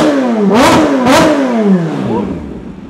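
A supercharged Kawasaki ZH2 motorcycle with an AR exhaust is revved hard at high RPM, with two quick loud blips rising and falling before the engine settles back. The sound is close and powerful, and no one talks.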